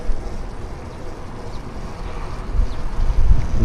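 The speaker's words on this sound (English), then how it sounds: "checking out these bushes that are being moved around by the invisible force that is the wind" Strong wind buffets the microphone while riding around outdoors on a windy day past bushes, a loud continuous low rumble that swells and gusts near the end.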